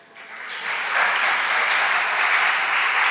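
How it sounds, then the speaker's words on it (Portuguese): A church congregation claps, the applause swelling quickly from quiet to a full, steady roomful of hands that holds to the end. "Vamos aplaudir a irmã Lúcia"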